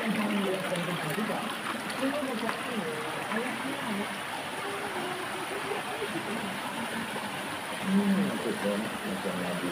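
A river full of large rocks rushes steadily in the background, a continuous broad wash of flowing water with someone talking over it throughout.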